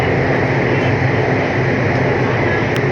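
A Bangkok MRT subway train rides toward Chatuchak Park, its steady, loud rumble and rolling wheel noise filling the car continuously without any talk.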